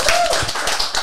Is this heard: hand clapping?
yes